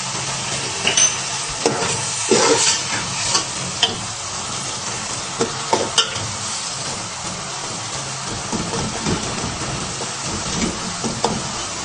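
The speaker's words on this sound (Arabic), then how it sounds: "انا بخليه يتسبك شويه مع الصلصه والطماطم" Tomato sauce simmers and sizzles in a pot for Bukhari chicken rice, a steady bubbling hiss with frequent scraping stirs throughout, and no talking.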